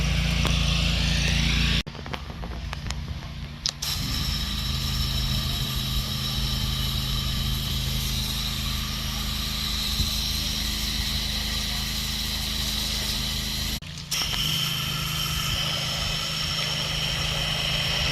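Pressure washer engine running at a steady idle-like drone for house and driveway cleaning, loud and close, with a couple of brief dips in the hum and no speech.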